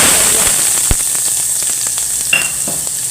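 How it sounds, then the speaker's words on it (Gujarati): Steady close sizzling as cumin, mustard seeds and asafoetida temper in hot oil with onion for vegetable Maggi noodles, continuous frying hiss with a few soft clinks of stirring. "અડધી ચમચી જીરું અડધી ચમચી રાય પાંચ ચમચી હિંગ નાખીને વઘાર કરી લઈએ"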